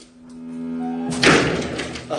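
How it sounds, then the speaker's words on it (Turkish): A door swings shut with a soft thump and rattle, close by, following a faint humming tone and light indoor noise. "Kapıyı da kapatıyorum."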